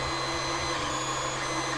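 A Creality Ender 3 3D printer runs close by, giving a steady mechanical whir with a constant motor hum and faint fan noise, even and unbroken throughout.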